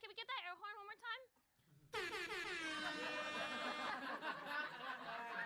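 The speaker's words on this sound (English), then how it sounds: "Can we get that air horn one more time?" An air horn sound effect played during a livestream sounds loud and sustained. It is preceded by a brief voiced bit, then the blaring horn runs to the end.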